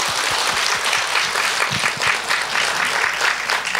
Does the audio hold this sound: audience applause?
yes